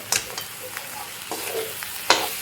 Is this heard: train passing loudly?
no